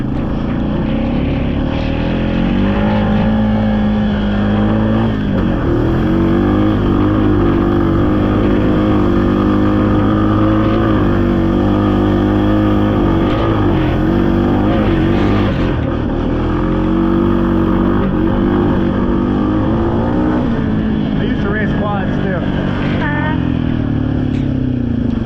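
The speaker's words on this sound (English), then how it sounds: "Little hill climb I was doing on the dirt bike." A dirt bike engine drones and revs through a hill climb, with rising and falling pitch under strain, loud and continuous from up close, with a rider's voice talking over it in places.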